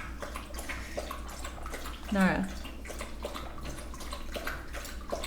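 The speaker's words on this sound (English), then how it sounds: "That's my dog drinking water." A dog drinking water indoors, soft repeated wet lapping and slurping going on steadily in the background while someone talks over it.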